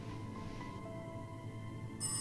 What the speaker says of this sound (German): Das Telefon bimmelt.